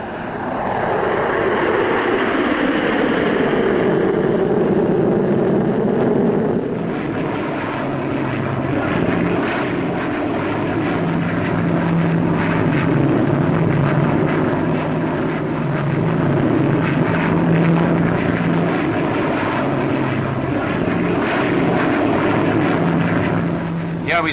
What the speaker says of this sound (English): Here we see the first two Vulcans taking the air.